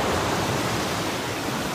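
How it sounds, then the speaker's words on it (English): Water pours steadily into a man-made pool meant to look natural, a close, even wash of rushing flow that stays constant throughout with no voices. "here comes some water"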